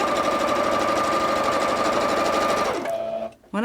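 A sewing machine stitches piping onto fabric in a steady, loud, continuous whir of rapid needle strokes, then stops abruptly near the end, leaving a brief tail of quieter mechanical noise.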